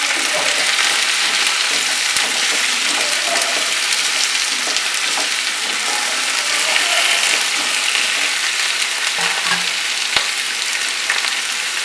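Potatoes frying with reddened onions in a pan for a fish curry with okra, giving continuous loud sizzling with scattered scrapes and clicks from stirring, close up and without talk.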